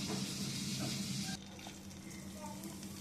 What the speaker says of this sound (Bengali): এবার কড়াইয়ের মধ্যে একটু জিরে দিয়ে দিয়েছে তেলের মধ্যে।